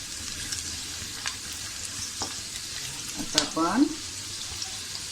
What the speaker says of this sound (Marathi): आता आपलं कांदो छानपैकी असं परतून झालो